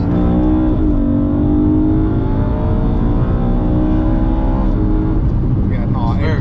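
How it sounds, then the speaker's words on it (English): BMW E92 M3 engine revving hard through a run of quick gear changes, rising harmonic sweeps broken by shift dips, loud and close from inside the car, steady throughout with no clear talk. "It changes gear a lot quicker than a C63 AMG, a lot quicker. And it sounds nice on the downshifts."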